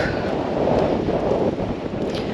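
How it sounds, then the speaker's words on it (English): Gusty wind buffets the microphone in a loud, rumbling roar that swells and eases without pause. "it's windy today"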